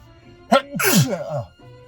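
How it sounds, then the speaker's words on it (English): A single close sneeze, a sharp gasping intake followed by a loud, breathy burst that trails off, with no other sounds around it. "I'm gonna sneeze, by the way, it's coming to me."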